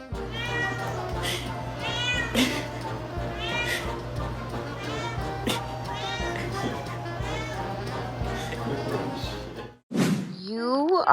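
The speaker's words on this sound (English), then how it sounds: "Getting Kitty's attention is easy if you know he's a fan of something" Several meows come from a pet cat, some drawn out and rising, clear and close, while people talk; it ends with an abrupt thump and a sharper, louder cry.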